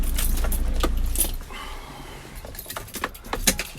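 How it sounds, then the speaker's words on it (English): A large bunch of keys for a 2015 Land Rover Defender 130 mobile workshop jangles and clinks in quick metallic bursts, close by, over a low idling rumble that fades out early on. "lots and lots of keys for all the different things on the back and on the roof and everything"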